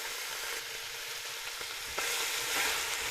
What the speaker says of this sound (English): I'm going to stir it around a little bit because that's browning pretty fast there